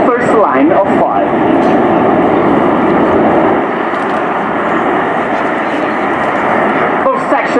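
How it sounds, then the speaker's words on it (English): Frecce Tricolori MB339 jets fly in formation at an air display, a loud continuous jet roar under a commentator speaking over a public address, with brief whooshing passes near the start and end. "now the leading group of 5 MB339 is turning right behind them"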